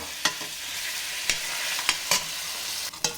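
Pieces of pork sizzle loudly in oil in a pan for a curry sauté, a constant frying hiss broken by sharp scrapes and clacks as they are stirred, close up with no talking.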